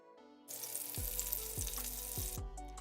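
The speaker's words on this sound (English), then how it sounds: "I'm gonna throw them in a pot, let them saute with some butter." Green beans tossed into a pot of melted butter burst into a loud, steady sizzle, with a few sharp clunks of the beans and utensil hitting the pot as the frying carries on close up.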